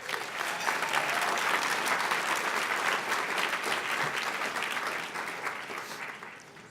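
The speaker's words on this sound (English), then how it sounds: "You're a little late getting to the applause." A large audience at a press-freedom awards ceremony applauds steadily, a dense, even wash of many hands clapping that holds strong for most of the stretch and then begins to thin and fade toward the end.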